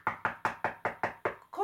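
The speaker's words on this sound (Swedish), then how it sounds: "nu väntar jag bara på att hon ska knacka på dörren" Someone knocks on a door: seven sharp, evenly spaced raps in a quick steady rhythm, close and clear. A voice starts right after the last knock.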